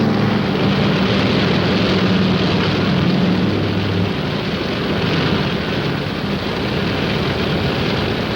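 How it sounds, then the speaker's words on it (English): A steady, loud helicopter drone with a low rotor-like hum, a 1951 Korean War rescue patrol, fills the scene continuously, distant but constant throughout. "That helicopter in the background is Ditch Patrol."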